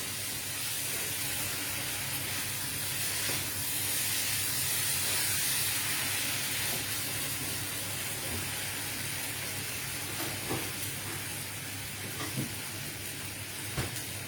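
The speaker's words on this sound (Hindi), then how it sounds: "मैंने पनीर मैरिनेट करके रखा था और अब मैं उसको थोड़ा सा पका रही हूँ" Marinated paneer cooking in a hot pan, giving a continuous soft sizzle and hiss that holds steady throughout, with a few faint clicks and knocks in the background.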